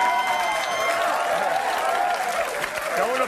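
A studio audience breaks into sustained applause and cheering, with dense clapping that holds steady throughout.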